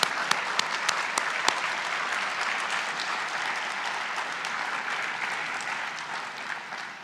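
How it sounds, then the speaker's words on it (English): A sustained round of applause from the audience at the UCSB Grad Slam final round showcase, a dense wash of many hands clapping that holds steady for several seconds and tapers slightly at the end. "would you stand and we can give you a round of applause?"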